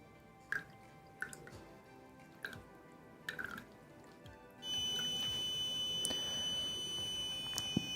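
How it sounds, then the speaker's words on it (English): A steady high-pitched electronic buzzer tone from an Arduino water level alarm switches on partway through and keeps sounding, following a few sharp drips or taps. "The water reached to the height of 600, the buzzer start making sound and the red LED is glowing."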